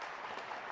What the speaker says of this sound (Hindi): ताली बज रही पीछे